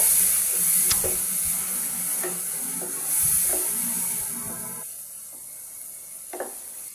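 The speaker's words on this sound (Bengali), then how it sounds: "মশলাটাকে আমি মিশিয়ে নিব কষিয়ে নিব সুন্দরভাবে" Spice paste with turmeric and salt fries in a pan, a steady close sizzle and hiss with soft scraping stirs, alone without talk.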